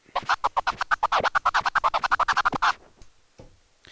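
Rapid phased flurp scratches on a turntable record, roughly twenty tight strokes in quick succession, loud and close, then a faint trailing tail as the run stops.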